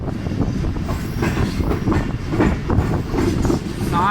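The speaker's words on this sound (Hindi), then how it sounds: "Sixteen down Karachi express दरियाए Sindh के ऊपर बने इंडस ब्रिज से गुजरने वाली है।" Karachi Express passenger train crossing the Indus bridge over the river, a steady loud rumble of wheels and carriages with rhythmic clatter and a brief metallic squeal near the end.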